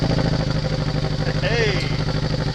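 An SVT motorcycle engine runs on a trailer with a steady, even mechanical drone throughout, and a brief rising whistle-like cry appears partway through.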